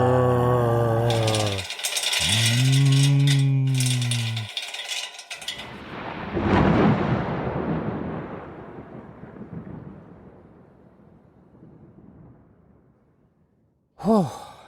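Thunder from lightning outside a house in the video game Ghost Spark rolls as a deep, loud rumble that slowly fades, following earlier wavering tonal cries, with a brief sharp tone near the end.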